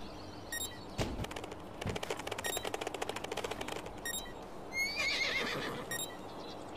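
Horse neighing in the motorbike racing game Trials Fusion, a loud whinny rising mid-clip followed by a rapid clip-clop rhythm of hooves and a final squealing whinny, heard alone without talk.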